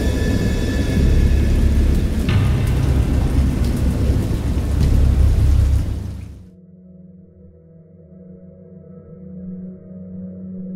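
Steady, loud rain with deep rumbling thunder from a storm in the PC game Dagon cuts off abruptly, leaving a quiet low hum that slowly swells again.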